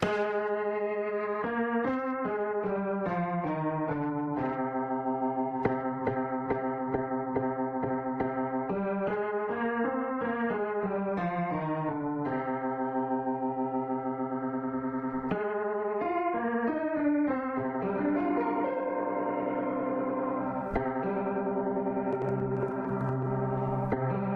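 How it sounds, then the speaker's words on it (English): A sustained instrument plays slow chords through the AB Chorus X effect, a shimmering, wavering chorus that widens the tone, steady and fairly loud throughout, no voices. "typical chorus sound, right, but with a little bit of edge spatially, like three-dimensionally."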